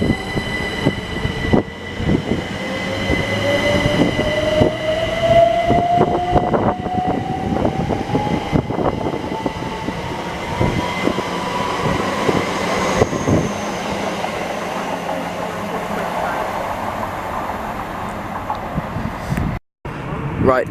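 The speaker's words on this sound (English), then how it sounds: "Now departing is a Class 387 Great Northern train off to London King's Cross." A Class 387 Great Northern electric train pulls away from Stevenage station with a steady hum and a motor whine rising in pitch, wheels clattering over rails; faint voices sound now and then.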